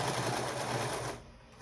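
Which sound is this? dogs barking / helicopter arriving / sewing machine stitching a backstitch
sewing machine stitching a backstitch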